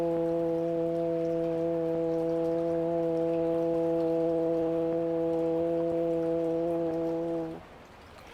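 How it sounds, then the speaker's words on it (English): A steady, sustained vocal hum of humming breath, Bhramari pranayama, held evenly for about seven and a half seconds before stopping, with no talking over it. "The humming, the hum, works like Brahmari Pranayama, the humming breath"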